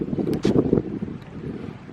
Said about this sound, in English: it's like a wind tunnel in here